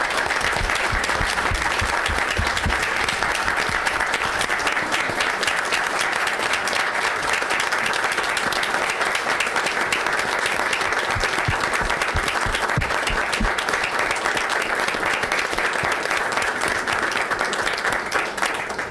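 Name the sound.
audience applause for a Marine Corps police department member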